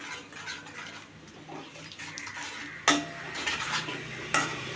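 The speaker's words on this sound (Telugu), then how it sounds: "నూనె తేరు వరకు ఇలా తిప్పుతూ ఉండాలి" Drumstick masala gravy being stirred in a pan with oil, a steady scraping and clinking of the spoon against metal, with a couple of sharper knocks, heard close with no one talking.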